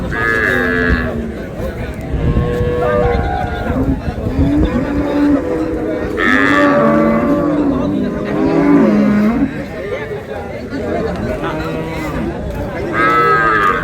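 Cattle moo repeatedly at a busy cow market at Ambari haat in Dinajpur, where dairy cows and calves are for sale. The drawn-out lowing calls overlap loudly and near, over a constant background murmur of crowd noise.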